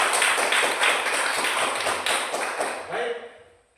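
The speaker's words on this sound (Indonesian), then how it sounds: "Tepuk tangan untuk kelompok 3." Classroom applause for a student group, a dense burst of many hands clapping at close range that fades out over a few seconds, with a faint voice briefly near the end.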